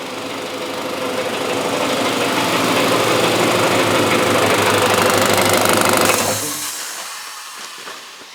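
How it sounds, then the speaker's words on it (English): A loud, steady air compressor motor drone with rattling, high-pitched hum runs continuously, then cuts off and winds down near the end. "Air compressor."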